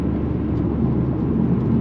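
A Ford Focus RS MK3 accelerating through a corner, its engine a steady, loud low drone that holds constant for the whole stretch with no other sounds over it.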